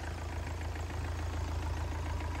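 Yanmar 4TNV98 diesel engine, 2400 rpm, 62 kW and 98 mm bore, idling with a steady low, even rumble, close and continuous.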